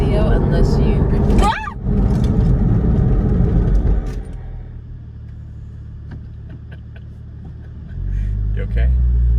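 A Porsche 718 Cayman GT4 is driven hard on the road and then brakes sharply, the engine roar falling away into a lower rumble before picking up again near the end.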